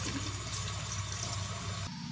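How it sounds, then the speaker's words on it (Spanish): Cold tap water runs over drained spaghetti in a sink with a steady, soft rushing hiss that cuts off sharply near the end. "Lo hemos escurrido y ahora lo ponemos en agua fría."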